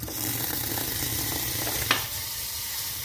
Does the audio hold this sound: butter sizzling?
yes